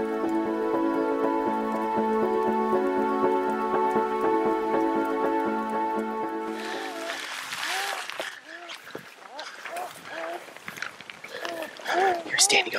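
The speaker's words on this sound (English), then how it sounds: "It is raining like crazy." Heavy rain falls on Kodiak Island during late-autumn blacktail deer hunting. A dense wash of patter and drips plays up close, with a voice over it for the first half.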